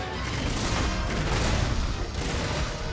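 Continuous heavy bowgun fire in Monster Hunter World against a Seething Bazelgeuse, a dense, loud barrage of overlapping shots and booms rolling steadily without pause for the full stretch.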